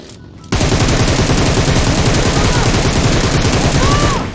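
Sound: gunfire in video game PUBG Mobile

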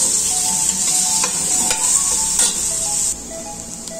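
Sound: wine deglazing casserole, then onion and garlic frying

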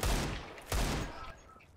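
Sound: gunfire in CS:GO video game

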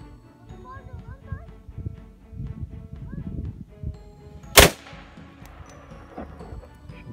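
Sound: Desert Eagle pistol gunshots

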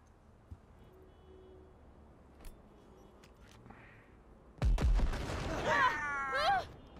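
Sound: grenade explosion in a video game

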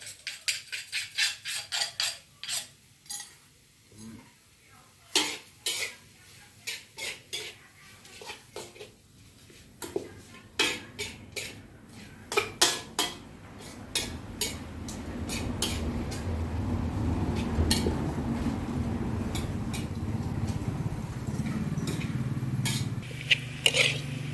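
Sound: stir-frying field rat dish in a pan

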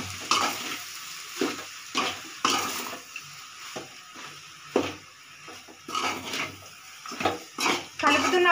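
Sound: rice being stirred into frying coriander masala

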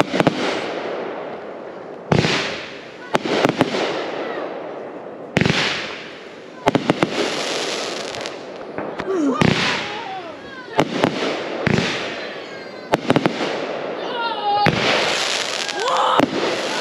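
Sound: July Fourth fireworks exploding

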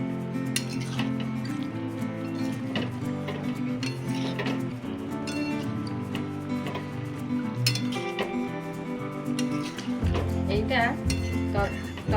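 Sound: stirring papaya curry in a pan

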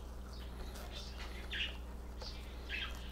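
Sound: budgie chirping in the background

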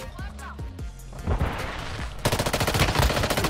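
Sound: gunfire in the video game Warzone Mobile

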